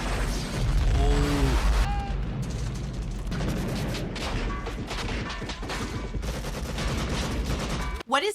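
Dense gunfire and explosions from the 1987 film Predator roar without pause, rapid bursts and booming blasts layered together loudly, with faint voices mixed in.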